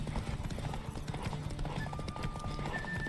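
Horse hooves galloping in The Witcher 3: Wild Hunt, a fast, steady clip-clop rhythm under continuous game ambience, with a faint whinny-like tone near the end.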